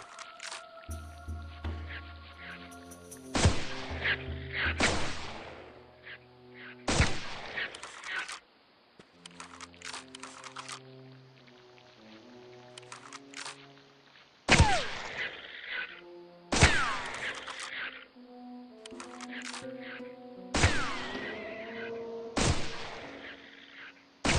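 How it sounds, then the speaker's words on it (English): Sniper rifle shots in a dinosaur hunting video game: several sharp, loud reports spaced a few seconds apart, set against an ongoing musical game soundtrack. "this sniper rifle effect"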